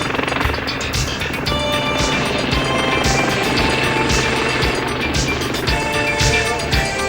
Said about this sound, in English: The helicopter simply formates with a friendly warship and takes on a fresh supply of fuel.